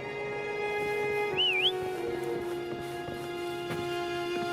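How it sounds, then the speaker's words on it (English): A short, rising-and-falling whistle from the video game Wuthering Waves sounds once over steady electronic background tones. "Try whistling."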